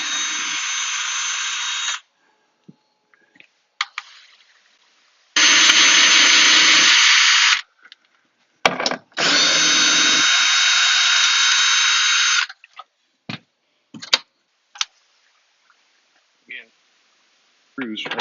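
Power drill backing out the screws on a vehicle hard top during a swap to a soft top, buzzing in two long sustained bursts with shorter spurts and clicks between, loud and close.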